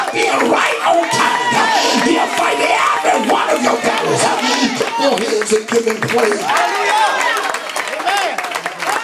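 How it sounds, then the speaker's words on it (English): A church congregation at a sermon claps and cheers loudly and continuously as a crowd, while a voice speaks and calls out over the noise. "He'll fight every one of your battles. Clap your hands."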